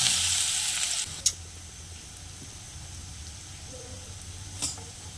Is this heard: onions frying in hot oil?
yes